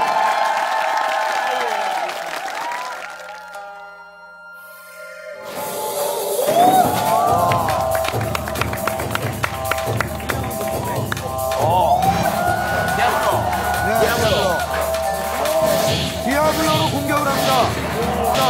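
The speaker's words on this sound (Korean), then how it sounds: "그럼 박수로 채워보도록 하겠습니다" A TV show audience bursts into applause and cheering after a quiet pause, with whoops and crowd noise mixing with music and loud voices.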